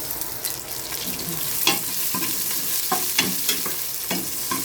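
Garlic and onion frying in oil in a pan for tinolang pata, a steady close sizzle broken by several sharp stirring scrapes, with no talking.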